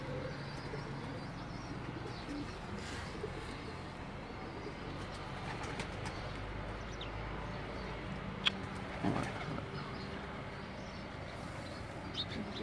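Pigeons at a late pigeon keeper's home in Gujrat give soft, scattered coos over a constant murky background hum, faint and moderately distant.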